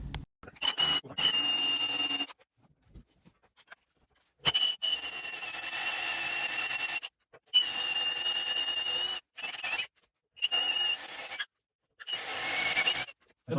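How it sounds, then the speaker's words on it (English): A drill boring a hole through wood for a jigsaw cut, running in several short bursts of whirring and grinding separated by pauses. "Next step is drilling a hole in the wood for the jigsaw."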